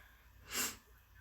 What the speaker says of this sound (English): you can hear me with all my sniffles right now